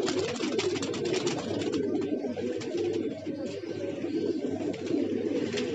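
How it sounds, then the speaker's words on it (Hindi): Pigeons bred for flying coo in a loft, a steady murmur of soft overlapping calls running throughout at moderate level. "ये सब उड़ाने वाले कबूतर हैं ज़्यादातर, जो इस साल नाम करेंगे उड़ के।"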